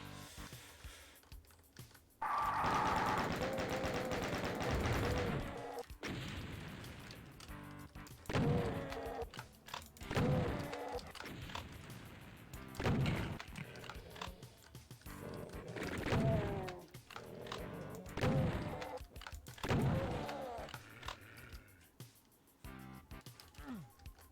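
Repeated heavy shotgun blasts in Final Doom, loud bursts spaced every couple of seconds with some overlapping game clatter between shots.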